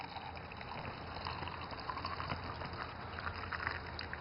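Water flows from a filter on a garage faucet into a container, a steady close gurgling pour with small fluctuating splashes and no voices.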